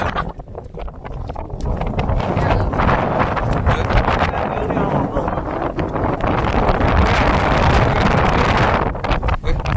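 Strong wind buffets the microphone on the Illikkal hilltop, a loud, continuous rushing roar that gusts and swells, with people talking faintly beneath it.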